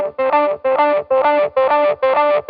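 Fish Circuits Echo Limiteur hybrid delay pedal producing a loud repeating echo effect, a sustained tone stuttering into five evenly spaced repeats with no voice present.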